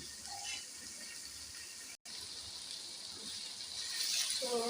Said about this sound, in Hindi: थोड़ा सा अब हम पानी डालेंगे इसमें, आधा गिलास